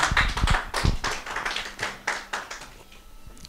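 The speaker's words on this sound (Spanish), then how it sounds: "Denle un fuerte aplauso al Señor por eso, hermanos." Church congregation applauding during a sermon, distinct close hand claps in an uneven rhythm that taper off toward the end.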